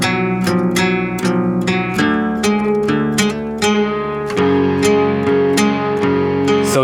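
Nylon-string guitars heard alone, several layered parts plucking a steady rhythmic pattern of bright, sharp note attacks with chord changes, close and clear without any talking.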